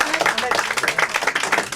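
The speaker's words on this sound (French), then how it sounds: "On applaudit Ahmed." An audience claps and applauds for Ahmed, a brisk burst of close, dense clapping, with voices talking over it.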